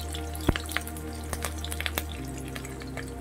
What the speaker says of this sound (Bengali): দিয়ে দেব কাঁচা লঙ্কা ফোড়ন